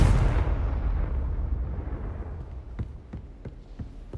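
A large spell explosion in Hogwarts Legacy starts as a loud, broad blast and rumbles away over several seconds, followed by a few sharp, lighter pops.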